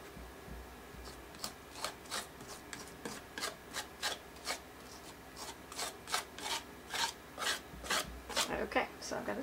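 Paint being scraped off a decorative tole-painting surface, heard as a close, steady series of rasping strokes that quicken and grow louder toward the end, with no talking.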